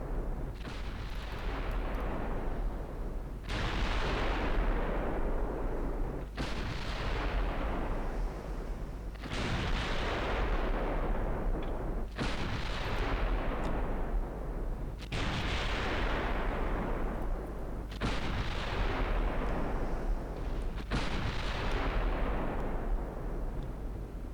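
Heavy 14-inch naval guns fire in a battlecruiser strategy game, seven or so loud booming salvos spaced a few seconds apart, each fading into a long rumbling tail over constant background noise.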